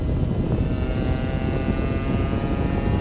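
Honda NS-1 75cc two-stroke motorcycle engine pulling hard on an open road, a steady loud droning roar with a buzzing high tone held throughout, no voices.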